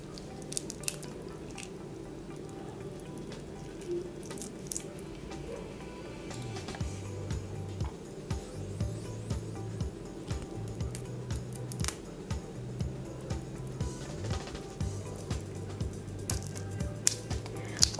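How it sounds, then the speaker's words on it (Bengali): Shrimp being cleaned and peeled by hand, a long run of soft, wet squishing and small crunchy snips repeating at an uneven pace, close and fairly quiet, with no talking. "এখন আমি দেখিয়ে দিচ্ছি কিভাবে আমি মাছটা পরিষ্কার করলাম।"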